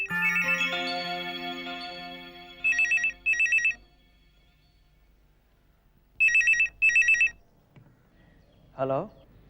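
A phone rings in short paired bursts, two double rings around the middle and two more later, loud and close, with a sustained musical tone fading at the start and a brief rising sweep near the end.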